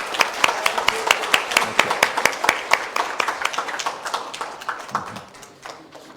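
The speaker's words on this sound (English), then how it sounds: "giving Professor Maskin a big round of applause" A lecture audience applauds Nobel laureate Professor Eric Maskin, with a run of crisp, closely packed hand claps that gradually thin out and fade toward the end.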